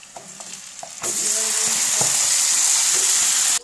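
Marinated chicken drops into a pan of fried onions for biryani, setting off a sudden loud, steady sizzle after a second of quieter stirring that cuts off near the end.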